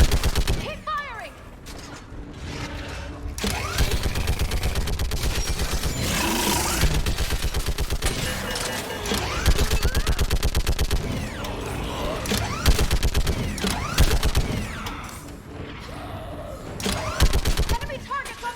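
Mass Effect 3 battle gunfire, with sustained automatic bursts and rapid shots rattling almost without pause under shouting voices and loud combat noise.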